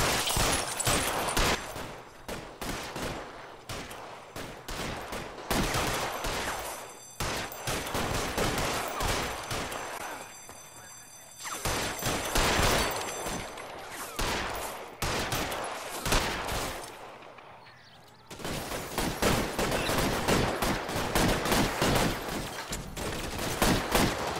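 Gunfire from the video game L.A. Noire: dense bursts of rapid shots and volleys crackle in clusters, dropping to brief lulls between exchanges, loud and close with no talking.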